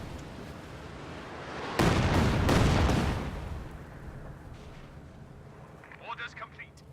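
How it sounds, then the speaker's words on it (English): A Katyusha rocket barrage in a strategy video game lands as one loud, rumbling burst of blasts lasting about a second, then fades into low battlefield noise with a few faint pops near the end. "Katyusha barrage forces a retreat from"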